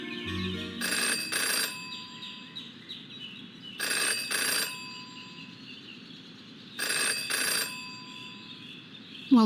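Telephone ringing in the Jenny LeClue detective game, three loud bursts of a bell-like ring, each double pulse evenly spaced with quiet gaps between.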